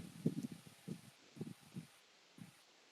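Air from an electric fan buffets a microphone indoors, producing soft, low rumbling puffs in irregular gusts that rise and fade over a few seconds, with no voices present.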